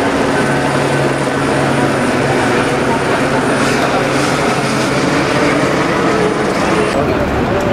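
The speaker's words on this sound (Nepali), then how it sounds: "अहिले हेलिकप्टरबाट पानी हालिरहेछ।" A helicopter drops water on a fire in the Damauli market area of Tanahun, Nepal, giving a steady, dense roar throughout with voices over it.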